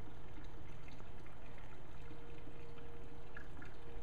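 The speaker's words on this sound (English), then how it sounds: "a nice, serene little waterfall" A small, serene waterfall on gated property grounds gives a steady, continuous splash and trickle of falling water, even and close, with no talk over it.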